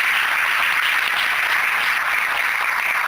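A church congregation applauds during a sermon on God at the centre of marriage, a steady dense wash of clapping that holds at an even level throughout.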